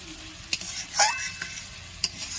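Sattu is sautéed in a pan with a few short scraping stirs and sharp clicks over a faint sizzle, close and quiet.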